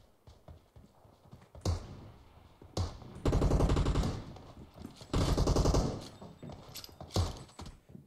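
Automatic gunfire in PUBG Mobile rattles out in two loud sustained bursts, with scattered single shots and quieter background clatter between them.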